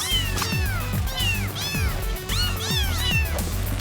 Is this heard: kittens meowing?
yes